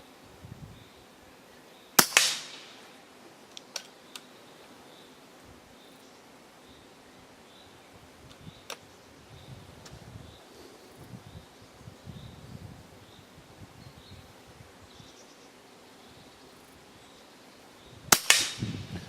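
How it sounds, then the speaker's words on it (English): Two sharp shots from an EDgun Leshiy air rifle fired outdoors at 25 meters, each a loud crisp crack with a brief tail, far apart, with light wind noise in between. "So in this power, the gun is quite quiet and very efficient."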